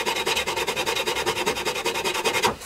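Rapid, even rasping strokes on wood as excess material is cleaned from a countersunk drill hole in a handmade carved wooden spatula. About twenty close, steady back-and-forth scrapes run without a pause, and no one speaks.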